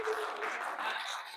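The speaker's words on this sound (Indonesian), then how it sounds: "Tepuk tangan untuk Tri." Classmates in a school lesson give a short round of applause for a student, a soft, steady patter of many hands that fades slightly toward the end.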